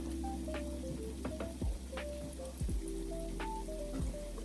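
Mandazi dough sizzles and crackles in hot oil, a steady frying hiss with scattered pops and faint clinks close by, no talking.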